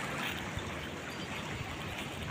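A swollen river after overnight rain rushes past a bridge in a steady, broadband roar, close and continuous, with no voices.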